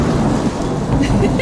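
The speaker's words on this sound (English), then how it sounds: "As soon as that drum stopped, you heard lightning comes in." Thunder rumbles through rain in the soundtrack of a music video, a loud, continuous low roar with steady rainfall throughout.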